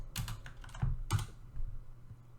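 Quick bursts of keystrokes on a computer keyboard, a few clustered clicks followed by a pause and then another short run, close and fairly quiet with no voices.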